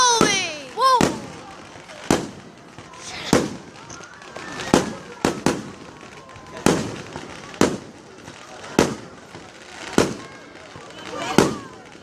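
Fireworks fired at seagulls outdoors burst in a series of about ten loud, sharp bangs roughly a second apart, each decaying into a rumble, with a rising whistle at the start and excited voices exclaiming between blasts.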